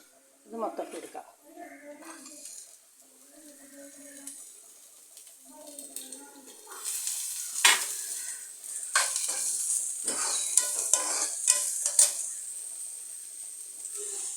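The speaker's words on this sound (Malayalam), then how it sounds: "റവ വറക്കാൻ പോവുകയാണ്." Semolina roasts and is stirred in a pan, with soft scraping and a growing dry hiss that gets louder in the second half, under intermittent talk.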